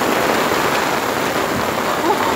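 Heavy rain pours down in a storm on the Azov Sea coast, a loud, dense, unbroken hiss of falling water with no pauses and no voices.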